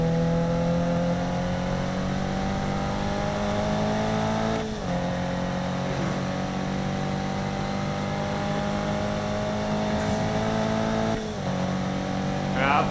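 Sports car engine in the Need for Speed 2015 racing game, a steady loud drone held at high revs with brief dips around gear shifts, close and continuous.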